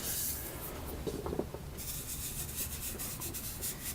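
Fingers rub pastel chalk across paper in small circles, a soft continuous hiss of dry friction with slight rhythmic swells, fairly quiet and close, with no voices.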